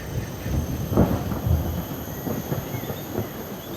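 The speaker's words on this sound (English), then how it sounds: "A storm is brewing." A storm gathers near the equator in humid Singapore, and low, rolling rumbles of thunder swell and fade in several waves. The storm sounds distant and moderately loud, with no voices.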